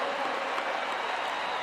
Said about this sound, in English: The cheer came out.